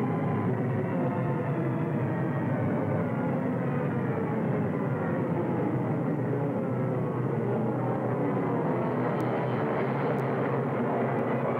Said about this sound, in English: One B-17 found his target and leveled off.